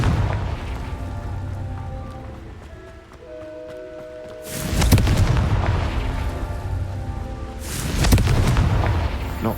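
Confringo fire spell in Hogwarts Legacy on Xbox Series X: two heavy booming blasts with crackling bursts, one midway and one near the end, rising over a background of low game music and ambience.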